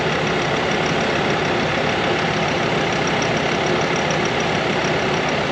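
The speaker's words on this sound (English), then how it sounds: "Here, listen to the motor." A Ford Powerstroke diesel idles inside a 2018 Thor Gemini 23TR Class C motorhome, a steady, even engine drone with a faint high whine, continuous and close, with no talking.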